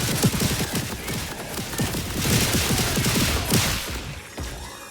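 Shock sniper rifle fired in Borderlands 4, heard as a dense run of sharp, punchy shots and thumps in quick succession, loud and close throughout with a steady rapid rhythm.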